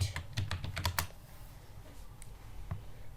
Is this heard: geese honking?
no